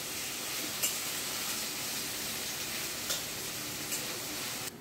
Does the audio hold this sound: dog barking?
no